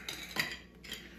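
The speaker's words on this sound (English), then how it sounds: "we add the ice cubes. Right. And we're gonna give it a little stir" Spoon stirring ice cubes in an Old Fashioned cocktail with rye, heard as a few close clinks and rattles of ice against glass, with two brighter taps, quiet and alone.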